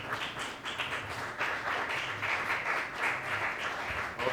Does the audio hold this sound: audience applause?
yes